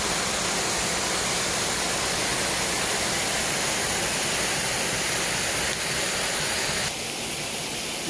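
Kursunlun Waterfall cascades in a steady, dense roar of falling water, loud and unbroken from start to finish, with a slight drop in the upper wash near the end.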